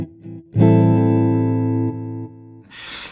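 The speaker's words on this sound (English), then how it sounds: "I have a reverb that I can turn on and off." An electric guitar played through a Line 6 Sonic Port amp with reverb switched on: a single sustained chord rings out loud and clear, decays with a reverb tail, then a burst of hiss follows.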